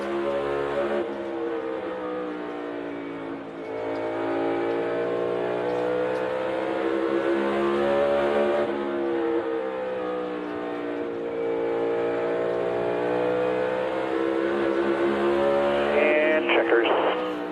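NASCAR Cup Series race cars lap Bristol Motor Speedway during practice, their V8 engines droning in a sustained, layered roar that swells and dips in pitch as they accelerate through the turns, heard from a distance.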